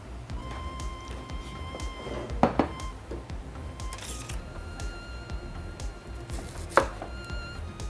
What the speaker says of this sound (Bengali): পেঁয়াজটা কেটে নিই